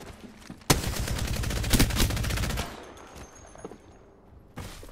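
Automatic gunfire in the video game Apex Legends, a loud rapid burst of shots lasting about two seconds, then quieter game ambience and a final short blast at the end.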